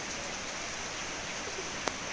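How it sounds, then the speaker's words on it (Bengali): Steady rain falls in the Andaman Islands, a soft, even hiss with no breaks, fairly faint and close, with one brief sharp tap near the end. "একটু বসে বসে বৃষ্টি দেখি।"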